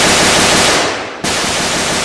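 Loud, dense machine gun fire from the Army Men: Battle for the Backyard video game roars continuously, broken by one brief dip before the rattling resumes at full strength.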